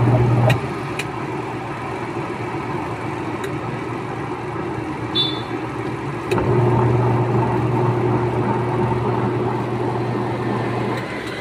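A Eureka double-tub washing machine spinning with a steady low hum and churning rumble, continuous and fairly close, with a couple of faint clicks and a slight rise in the drone partway through.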